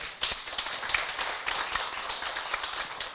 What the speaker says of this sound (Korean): 뜨거운 박수 한번 보내주시면 어떨까요?